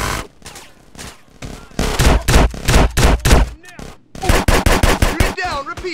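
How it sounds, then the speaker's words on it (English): Loud, close automatic gunfire from a video game firefight, with long rapid bursts broken by brief pauses and a shouting voice near the end. "Get some suppressing fire in there!"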